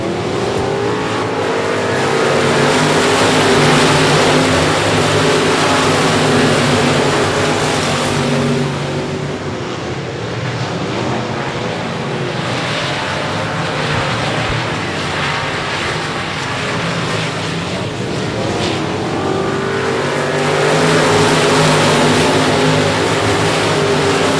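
Race cars roar around the I-37 Speedway oval in a loud, continuous engine drone that swells and fades as the pack passes, with a brief dip partway through before the roar builds again.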